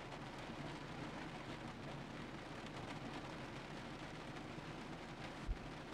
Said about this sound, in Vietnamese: Các bạn thì thấy là trời đang mưa rất là to.